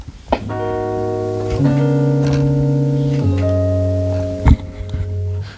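Sustained rich extended chords up to the 13th played on a keyboard, three long held voicings in succession with a brief percussive tap near the end, no talking.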